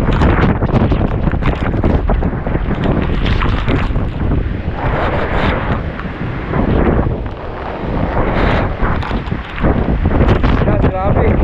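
Strong typhoon wind at Signal No. 4 roars loud and steady against the microphone, gusting and buffeting throughout, with a person talking over it at times.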